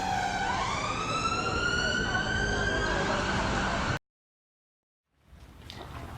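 A wailing emergency siren with rising harmonic sweeps holds steady for about four seconds, then cuts off abruptly to near silence before a faint rustle.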